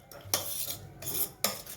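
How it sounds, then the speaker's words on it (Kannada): A spoon stirs a cucumber and moong dal kosambari salad with coriander and tempering in a bowl, producing three distinct bursts of close clinking and scraping separated by short quiet gaps. "ಹೆಸರುಬೇಳೆ, ಸೌತೆಕಾಯಿ, ಕೊತ್ತಂಬರಿ ಸೊಪ್ಪು, ಒಗ್ಗರಣೆ ಇದೆಲ್ಲ ಚೆನ್ನಾಗಿ ಮಿಕ್ಸ್ ಮಾಡಬೇಕು"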